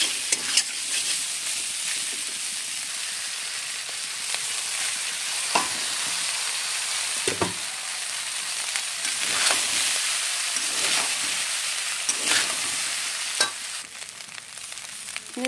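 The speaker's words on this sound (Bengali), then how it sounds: "চিংড়ি মাছগুলো এবার আমার ভালো করে ভাজা হয়ে গেছে, এবারে এর মধ্যে আমি ভাতটা দিয়ে দেবো" Cooked rice is stirred into fried shrimp in a hot pan for shrimp pulao, a constant close sizzle broken by repeated scraping strokes of the spoon, with no talking.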